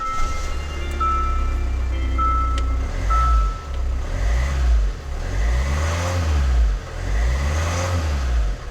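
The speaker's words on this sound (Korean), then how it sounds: "시동을 걸어보면" A used Hyundai Santa Fe DM with about 270,000 km idles steadily after starting, its engine humming with low rising and falling swells, while intermittent electronic beeps and chimes sound over it.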